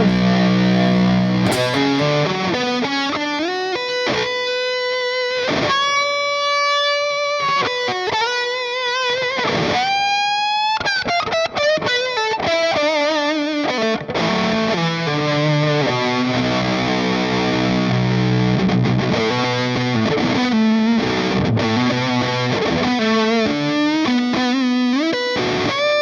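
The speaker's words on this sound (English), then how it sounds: "Let's add on some reverb." Distorted electric guitar through an ENGL E412XXL cabinet simulation plays metal riffs and ringing sustained notes with a reverb wash trailing behind them, loud and continuous without any talking.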